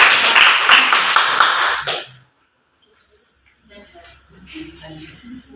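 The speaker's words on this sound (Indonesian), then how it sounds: "Tepuk tangan untuk kelompok." Lively classroom clapping for a student group rings out for about two seconds and stops abruptly; after a short silence, soft talk and shuffling follow.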